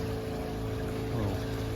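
A sailboat's auxiliary engine chugging steadily at sea while motoring across the Sea of Cortez in near-calm conditions, a loud continuous low hum with no speech.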